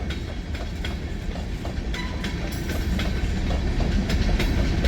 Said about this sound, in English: 3 locomotives for power.